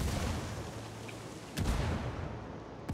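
Frag grenade detonating in the tactical shooter Ghost Recon Wildlands: a dull, muffled boom lands midway through a dense roar of game noise, followed by another burst near the end, with no talk.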